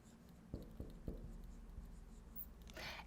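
Pen or marker writing out a quadratic equation on a board, a few sharp taps and strokes in quick succession, then a brief scratchy scribble near the end, close and fairly quiet.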